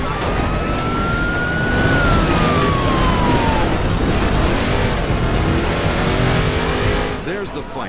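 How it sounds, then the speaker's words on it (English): In the video game Crackdown, an emergency vehicle's wailing siren sweeps over a loud, steady engine roar, with a voice speaking underneath. "emergency vehicle"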